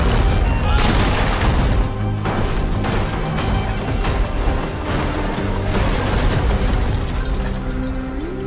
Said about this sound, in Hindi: एक ही तो गोली चली है गीता जी